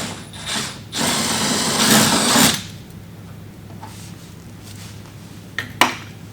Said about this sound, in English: Then you'll go ahead, take your 1/4-inch drill bit,